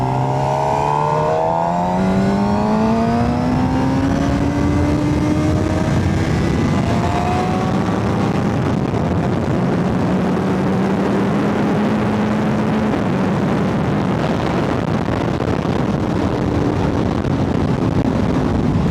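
A Suzuki GSX-R 750 motorbike accelerates hard on a ride, its engine note climbing through the gears in loud, rising sweeps, with wind rushing past close to the rider.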